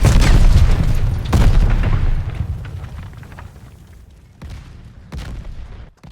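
A big explosion in Call of Duty Vanguard hits close and loud with a deep booming roar, then rumbles and fades over several seconds, with further thuds and blasts following.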